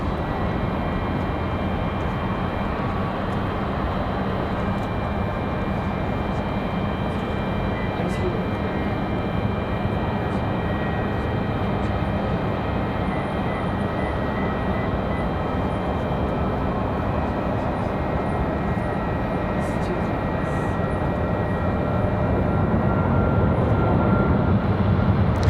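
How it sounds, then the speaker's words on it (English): A Southwest Boeing 737 Max 8 jet bound for Las Vegas departs Raleigh-Durham airport with a loud, steady engine roar that holds throughout and swells slightly toward the end. "Gonna land just after the departure of our Southwest Max 8 to Las Vegas."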